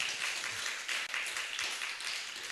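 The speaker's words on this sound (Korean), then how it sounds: "박수 한번 쳐주시죠." A crowd claps at the opening of a May 18 memorial ceremony held outdoors at the 5.18 National Cemetery in Gwangju, South Korea, a soft, distant, continuous patter of applause.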